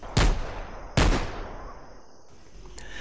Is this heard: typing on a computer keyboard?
no